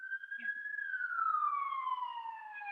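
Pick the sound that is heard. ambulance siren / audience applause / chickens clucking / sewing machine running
ambulance siren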